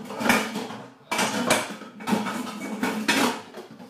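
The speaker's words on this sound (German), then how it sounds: "So, die Pfanne." A frying pan is handled in a home kitchen while turkey medallions are being prepared, giving several loud metallic clanks and scrapes in quick irregular bursts, close by, with no talking.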